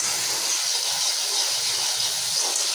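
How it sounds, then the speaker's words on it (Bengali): Ginger and garlic sizzling as they fry in a pan for a fish curry, a loud, steady, close hiss that holds without a break and has no talking over it. "তো আমি আদা রসুনটাকে একটু ভালো মতো কষিয়ে নিচ্ছি যাতে করে কাঁচা গন্ধটা চলে যায়।"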